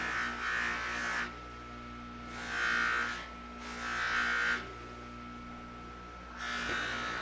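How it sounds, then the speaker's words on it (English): A flexible buffing wheel polishes wax on a turned wooden oil lamp, four separate bursts of soft whirring friction over a constant low motor hum, quiet and close. "this wheel flexes as you apply it. In other words, all it's doing is buffing out our wax."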